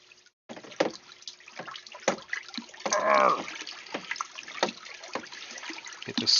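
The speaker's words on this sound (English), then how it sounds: "I get my trusty old stick, my salt stick, and I stir it." A wooden stick stirs salt water in a small bucket, making close splashing and sloshing swirls with scattered knocks against the sides, growing briefly louder midway as the water gets moving.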